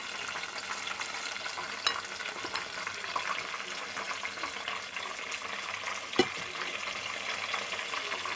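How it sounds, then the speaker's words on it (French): Banana fritters frying in hot oil give a steady, dense sizzle with a few brief pops and clicks from handling, and no talk over it. "Et maintenant, on va mettre donc la friture."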